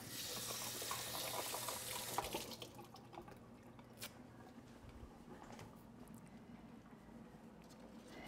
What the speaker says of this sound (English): Wash it off.